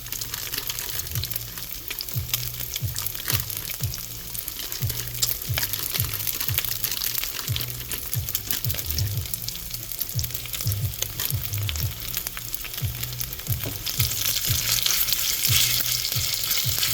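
Udon noodles fry in hot oil with a dense, steady sizzle and occasional stirring scrapes, loud and close, growing slightly louder near the end.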